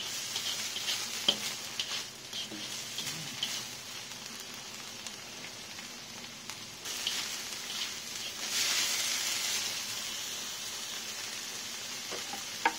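Small fish cooking with salt, seasoning and vinegar being stirred in a pan, soft sizzling and scraping under quiet kitchen ambience, with a brief louder burst of frying toward the end.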